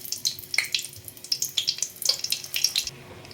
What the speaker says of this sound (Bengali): তেলটা প্রায় গরম শুকনো লঙ্কা ফাটিয়ে দিয়ে দিচ্ছি